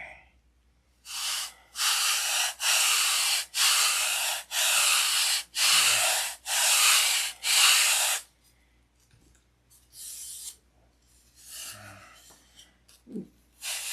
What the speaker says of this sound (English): Then take a sanding block.